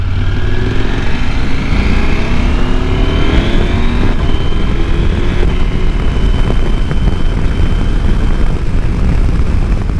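A KTM 890 Adventure R motorcycle being ridden, its engine rising in pitch through the revs and shifting gears, with loud, close wind rush and a steady roar throughout.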